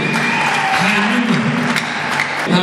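Guests at a wedding reception clap loudly and continuously for a child, a dense burst of applause with cheering voices and a singing or speaking voice mixed in beneath the clapping.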